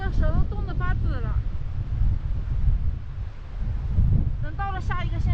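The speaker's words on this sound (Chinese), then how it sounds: "好大的风" Strong wind roars across the microphone during a solo bicycle ride on a rainy road in Tibet, a steady broadband rush with gusting swells, while a voice speaks briefly at the start and again near the end.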